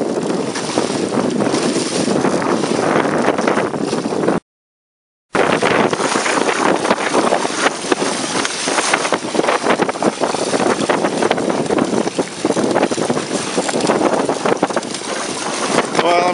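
A small sailboat plows through choppy waves in strong wind, with heavy wind buffeting on the microphone, rushing water and splashing spray forming a loud, continuous roar, broken by a brief dropout.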